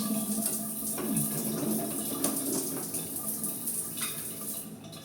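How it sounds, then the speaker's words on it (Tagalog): Water runs steadily from a Panasonic shower heater in a house bathroom, a continuous close hiss of spray with no break for about five seconds. "So, ayos pa itong Panasonic ng shower heater sa itaas."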